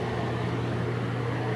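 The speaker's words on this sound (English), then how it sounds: "Sorry about the fan" An electric fan runs steadily in a redone basement, a constant broadband whoosh with no change in level and no other sounds.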